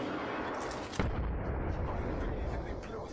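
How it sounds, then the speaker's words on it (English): A frag grenade detonates in a video game firefight: one sharp explosive crack about a second in, followed by a sustained low rumble and ongoing battle noise throughout. "Frag grenade sent."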